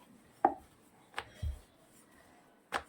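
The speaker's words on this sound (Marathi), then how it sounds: "एक पोळीपाट घेतलेला आहे त्यात मी अशा प्रकारे गोळा ठेवलेला आहे आणि अगदी साध्या पद्धतीनं आपल्याला पोळी लाटून घ्यायची आहे" Wheat chapati dough from ration flour is rolled out with a rolling pin on a wooden board, giving a few sparse, soft wooden knocks and taps against a quiet background.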